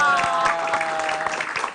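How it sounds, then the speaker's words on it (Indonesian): A crowd clapping hands in steady, brisk applause, with voices mixed in beneath the clapping. "Tepuk tangan dong."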